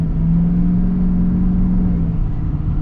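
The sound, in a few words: old Duramax diesel truck accelerating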